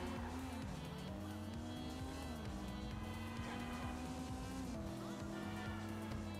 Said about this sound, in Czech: A už šel do toho, do smyku.